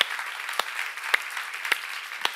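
Steady audience applause at a church seminar, a dense wash of many hands clapping with a few sharper claps standing out, fairly loud and continuous throughout.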